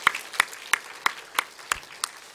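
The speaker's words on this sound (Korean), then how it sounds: "우리 하나님께 영광 돌리는 박수이기 때문에 크게 박수 칩시다." Congregation at a Korean church Sunday morning service clapping in unison to give glory to God, slow evenly spaced claps, seven or so, with a faint room murmur underneath.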